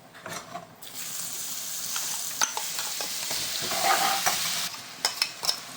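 Chilli and ginger paste fries in a pan over low heat for a Kolkata-style vegetable chop, a close, steady sizzle broken by the scrape and clatter of a spoon stirring.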